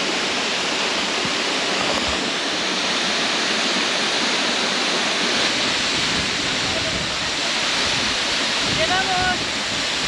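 A Mapuche waterfall roars with rushing water, a loud, close, unbroken wash of noise that holds steady throughout.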